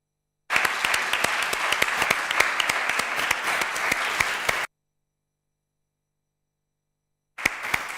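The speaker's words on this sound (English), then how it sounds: "who deserve, I think, a big applause" Audience at an international tourism symposium for young researchers bursts into sustained applause for about four seconds, dense clapping from a room full of people, then silence before clapping starts again briefly.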